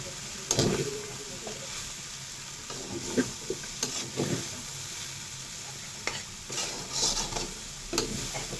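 A spoon or spatula stirring fresh lumpia filling made with jicama in a pan, producing irregular scraping and clattering strokes with soft hissing between them, close by and fairly quiet.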